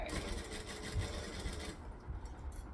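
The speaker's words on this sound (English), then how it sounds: "So stitch and back stitch." A sewing machine stitches forward and then back-stitches along the seam of a fabric bag, giving a steady, fairly loud mechanical whirr for most of the stretch before the sound thins near the end; no voices.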